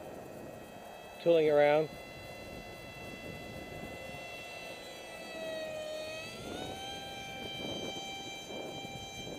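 An electric RC plane driven by an NTM Prop Drive 2836 2700kv motor at half throttle gives a steady, thin whine whose pitch bends as it passes. A short burst of talk sits near the start.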